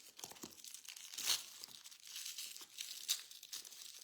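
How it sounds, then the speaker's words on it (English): Wrapped packages being unwrapped, with steady close crinkling and tearing of wrapping material, swelling into a few louder rips and unbroken by talk. "I'm unwrapping them all for you."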